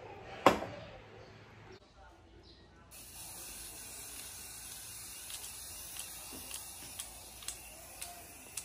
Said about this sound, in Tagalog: spray time na tayo.